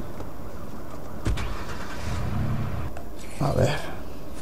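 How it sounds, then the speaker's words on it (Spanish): A car engine in the video game Watch Dogs cranks and starts, then runs at a low, steady idle while someone talks over it. "vamos a coger el coche."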